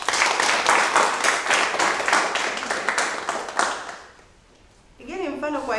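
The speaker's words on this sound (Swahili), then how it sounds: "Naomba mumpigie makofi ya nguvu." A classroom of pupils applauds a classmate with fast, dense clapping for about four seconds that fades out, after which a voice speaks.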